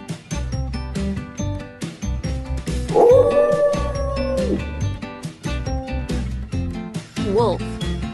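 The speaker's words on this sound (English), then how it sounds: "Wolf." A wolf gives a single drawn-out howl that rises and holds for about two seconds in the middle. A shorter wavering call follows near the end, all over steady background music.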